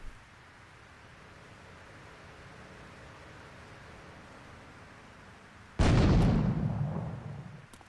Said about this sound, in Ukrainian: Давай я там гранату кину